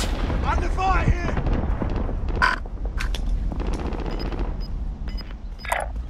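Gunfire and heavy explosive blasts crackle through a Call of Duty: Modern Warfare Warzone battle royale match, with rapid shots and booming impacts stacking into a dense, continuous barrage over a rumbling background.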